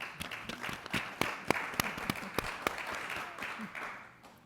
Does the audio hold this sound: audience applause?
yes